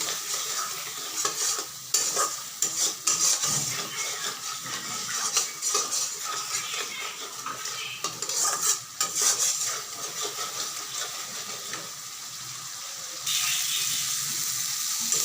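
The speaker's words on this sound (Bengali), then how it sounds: "এখন ভালো করে মশলাগুলোকে কষাতে হবে" Spices frying in oil in a pan for an aloo paneer curry, a steady sizzle broken by repeated scraping and clinking of a spatula as they are stirred, close and continuous with no talking.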